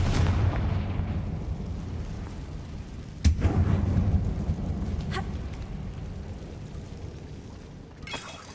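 Confringo fire-blast spell cast inside a closed mine in Hogwarts Legacy, one sharp explosive crack followed by a deep rumbling boom, with smaller crackles afterward over a dark, rumbling background.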